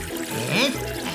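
Water poured onto a potted plant in a children's gardening cartoon, a brief gurgling trickle with a rising tone lasting about a second.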